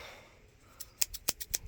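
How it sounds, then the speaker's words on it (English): Scissors cutting poor man's fiberglass, a homemade coating: after a quiet start come about six sharp, crisp snips in quick succession, close and clear. "we got some trusty scissors right here. Cuts it pretty good."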